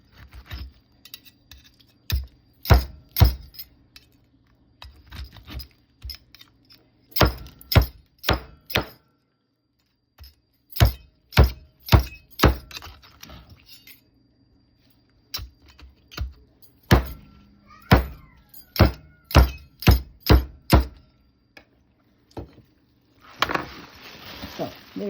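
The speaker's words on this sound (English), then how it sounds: "I will put a knife here and cut it in two." Knife cutting through a whole duck to split it in two, heard as bursts of sharp, crisp cracks and clicks in quick clusters with short quiet gaps between, close and fairly loud.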